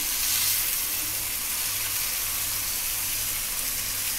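Bombil fish frying in oil in a pan over medium gas, a steady close sizzle and hiss running evenly throughout with no talk.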